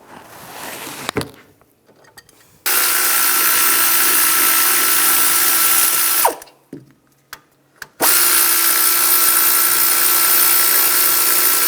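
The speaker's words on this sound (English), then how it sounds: "This one obviously is broken. We're going to have to drill that out." A power drill bores out a broken wheel speed sensor on an Infiniti FX35 front hub, running in two long loud steady bursts separated by short pauses and a few brief blips, with no talking.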